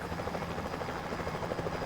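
A helicopter used for transfers to Hong Kong's private jet terminal at Chek Lap Kok thrums steadily at moderate distance, its rotor chop pulsing evenly throughout.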